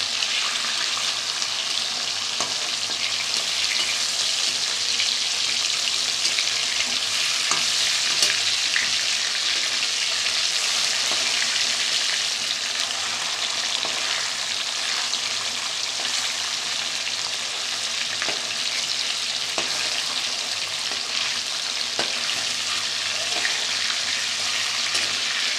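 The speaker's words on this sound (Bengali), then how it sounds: "মাছটা আমি বেশি ভাজবো না, অল্প অল্প করে ভেজে নেব।" Hilsa fish pieces frying in hot oil in a pan, a steady, dense crackling sizzle that holds at an even level throughout with no talk.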